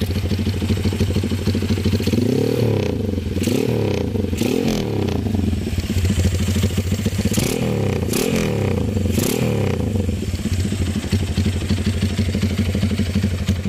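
A Honda CB motorcycle fitted with a jumbo PE 33 carburetor idles loudly and close, then gets a handful of short throttle blips that rise and fall in quick succession before settling back to a steady idle.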